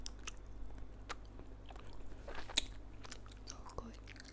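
Spicy Korean rice cakes (tteokbokki) are chewed close to the microphone in quiet, soft squishy bites with occasional sharper crunchy snaps over a low hum.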